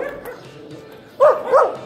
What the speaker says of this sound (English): Lots of barking dogs.